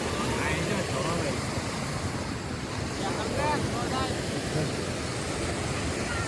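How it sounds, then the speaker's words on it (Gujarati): Floodwater rushing through a small village river in Botad during a heavy rainstorm, a steady, loud, broadband roar that never lets up, with a voice talking over it. "કેવું પાણી હાલી જાય અવાજ કેવો આવે છે"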